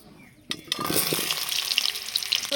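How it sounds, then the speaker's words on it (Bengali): Potatoes pierced with holes frying in mustard oil with chilli powder, turmeric and salt, a steady close sizzle that starts with a sudden splash and then crackles on continuously. "এবার এই ছিদ্র করে রাখা আলুগুলো একটু তেল দিয়ে, একটু লঙ্কা গুঁড়ো, হলুদ, লবণ দিয়ে ভেজে নিতে হবে।"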